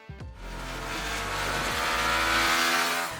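A 2021 Yamaha R15 V4 single-cylinder motorcycle engine revs past 7000 RPM, climbing from a low rumble into a loud, high-pitched, steady wail before easing off at the end.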